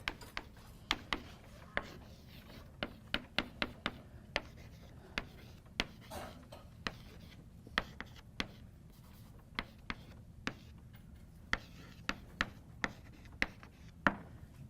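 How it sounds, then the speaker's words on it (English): Marker or chalk strokes on a lecture-hall board during a math lecture, a run of short, sharp taps and scratches arriving in quick irregular bursts, fairly close and clear with no talking. "Let me write out AK here."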